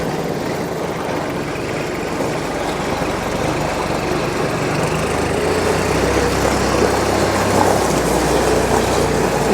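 A Kubota L3800 compact diesel tractor running in high range fourth gear, a loud continuous diesel rumble and rattle with a low engine drone that rises slightly toward the end, no talk.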